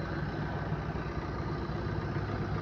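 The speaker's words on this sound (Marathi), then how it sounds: "गाडी सध्या पण चालूच आहे. तुम्हाला आवाज पण येत असेल. एकदम स्मूथ असं इंजिन आहे." A used Maruti Swift Dzire diesel car idles with a steady, even low rumble that holds unchanged throughout, close and continuous with no other sounds.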